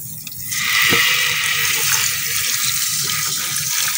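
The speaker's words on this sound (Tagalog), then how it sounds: "Lagyan natin siya ng tubig." Water poured from a container onto potted plants, a steady splashing pour starting after a brief pause and running on evenly, close and fairly loud.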